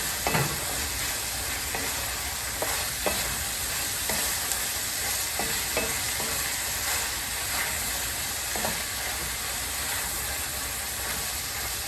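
Tomatoes fry for succotash in a pan, a continuous loud sizzle with irregular spoon scrapes and stirring knocks throughout, no talking.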